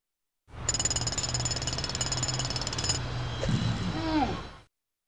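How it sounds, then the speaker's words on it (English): A video game pneumatic drill hammers in a loud, rapid continuous rattle, then cuts off into a hissing mechanical whir and clatter. "Pushing the control lever opens a spring-loaded valve to allow compressed air into the drill."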